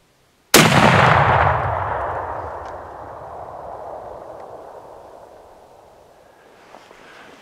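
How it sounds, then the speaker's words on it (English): A single loud rifle shot fired at elk on a hunt cracks out sharply, then a long rolling echo decays across open country for several seconds. "Let me know when you're shooting."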